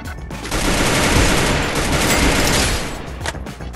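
Sustained burst of rapid automatic gunfire from a shooter video game, loud and dense for about three seconds, thinning out toward the end with a few scattered shots.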